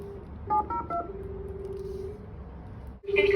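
Telephone call to a delivery customer: a steady tone and a quick series of dialing beeps, followed by a sharp louder tone near the end, over faint background noise.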